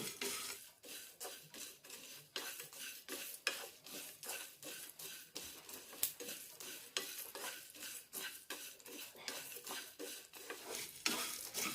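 Whole garam masala spices dry-roasting in a pan over a medium flame are stirred with rhythmic scraping strokes, roughly two per second, fairly soft and close, with light crackling between strokes.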